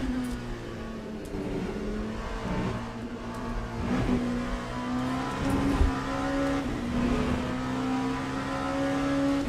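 Le Mans Sport race cars in a racing game at Monza, several engines droning and revving steadily at high pitch as a pack of cars runs together, continuous and fairly loud with no talk.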